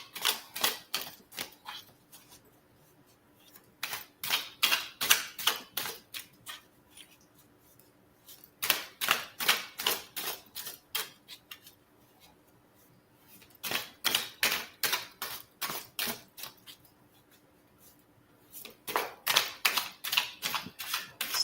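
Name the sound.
tarot cards being taken out and handled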